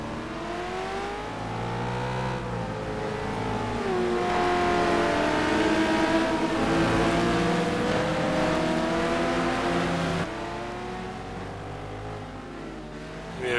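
Sim racing GT cars on a formation lap at Aldo Scribante, including a Porsche and a Corvette C6R, with several engines droning and revving together in layered, shifting pitches, loud and steady, swelling then easing near the end.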